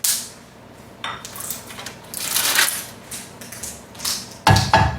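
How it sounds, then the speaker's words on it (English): Ginger, jalapeno and garlic drop into a frying pan with about a tablespoon of hot canola oil, setting off bursts of sizzling hiss and clattering utensil sounds against the pan, loud and close, with no talking. "In my frying pan, I have about a tablespoon of canola oil. I'm going to go ahead and add the ginger, the jalapeno, and the garlic."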